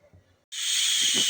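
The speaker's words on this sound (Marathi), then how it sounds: "आपल्या कुकरच्या शिट्ट्या होत आहेत." A pressure cooker boiling potatoes lets out a sudden, loud, steady steam whistle hiss after a brief quiet moment, sustained to the end.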